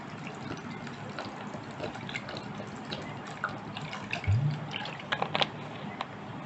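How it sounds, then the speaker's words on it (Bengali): Cold water is poured over fried lentil fritters for doi bora, a soft continuous trickling and splashing of liquid with a few louder drips near the end, no talk. "এর মধ্যে এখন ঠান্ডা পানি দিয়ে দেব।"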